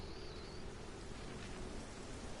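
Steady, soft rain hisses without a break in the video game No Man's Sky. The rain is faint and even, with no voices over it.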